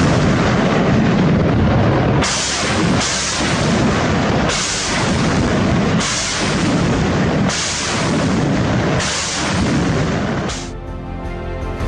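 Hezbollah rocket and missile fire on Israel, heard as a loud, continuous roar of heavy launches and blasts that swells in repeated surges every couple of seconds, with no talking.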